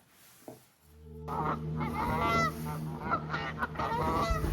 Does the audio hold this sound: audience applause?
no